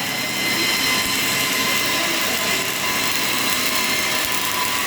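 A flux-cored welding machine with a compact carriage runs a long fillet weld in an industrial setting, producing a loud, continuous hissing roar that holds steady for the whole stretch.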